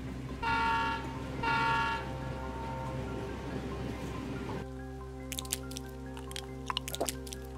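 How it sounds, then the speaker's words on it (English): Two drawn-out train horn blasts sound in Escape from Tarkov as the train arrives amid steady rain, followed by a low rumbling engine and scattered metallic clicks and clanks. "at long last I heard the train pull into the station."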